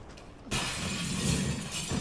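Glass shatters in the Resident Evil 2 survival horror game, a sharp crash that breaks out after a brief quiet lead-in and trails into a bright scattering of shards and debris.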